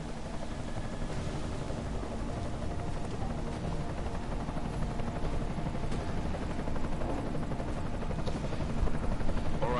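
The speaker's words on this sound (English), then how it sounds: "Enemy helo sighted." An enemy helicopter in Deus Ex: Mankind Divided thrums as a steady, dense rotor roar that grows slightly louder toward the end, with no talk.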